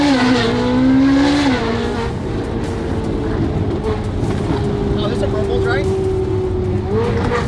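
Rebuilt Ferrari 458 engine revving hard during a burnout, a loud sustained high-pitched wail that rises, holds and climbs again, with tire noise underneath and people talking over it.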